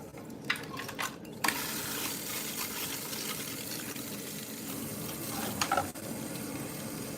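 A shampoo brush being rinsed under a running tap, with a few brief plastic clicks before the water starts, then a steady close hiss of flowing water splashing into a sink.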